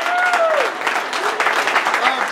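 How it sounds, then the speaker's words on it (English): Steady applause from a gathered crowd at a real-life get-together, loud and continuous for the whole stretch, with faint voices calling out over the clapping. "Round of applause for anybody that's cooked and helped out."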